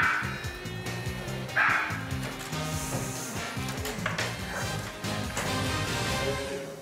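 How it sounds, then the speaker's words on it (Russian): Dog barking in a residential courtyard in Sarajevo, Bosnia and Herzegovina, a few bright barks rising over a steady backdrop of low rumbling ambient noise, no voices. "Собака, я слышу."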